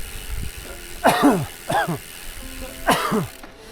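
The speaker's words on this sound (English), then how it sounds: "I apologise for the coughing" Three sharp, harsh coughs ring out close by, spaced apart over a few seconds against quiet background noise.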